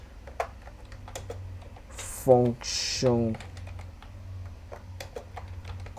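Someone types steadily on a computer keyboard, sharp clicks in uneven runs heard up close, while a voice briefly speaks partway through.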